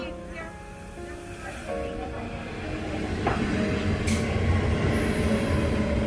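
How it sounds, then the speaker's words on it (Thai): A train arriving in Switzerland rumbles steadily nearby, its low mechanical drone growing slightly louder, with faint squeals and clanks; a few voices murmur underneath. "รถไฟมาแล้ว"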